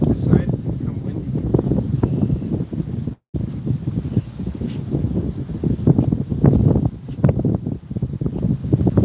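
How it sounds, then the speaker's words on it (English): Gusty wind buffets a microphone outdoors, a rough, fluttering rumble that rises and falls, with a brief dropout near the start and a voice talking at times. "all of a sudden just decided to become windy."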